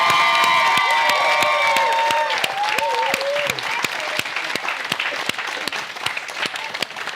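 Wedding guests clap and cheer loudly, with whoops and raised voices over the applause at first, then the clapping thins into sharper individual claps as the cheering fades.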